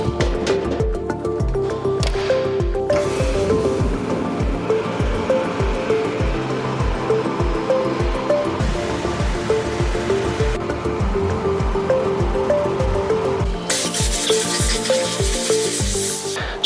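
Aqua blasting an automotive component, a steady wet hiss of pressurized water and abrasive media that runs continuously, with clanking and shifting underneath and a brighter burst of spray near the end.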